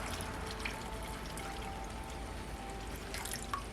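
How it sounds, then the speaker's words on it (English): A little water poured into an enchilada sauce can, a soft continuous trickle and splash, close and fairly quiet, with a few small clinks. "I'll put a little bit of water in there and stir it around"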